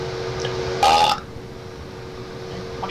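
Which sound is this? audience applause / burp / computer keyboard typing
burp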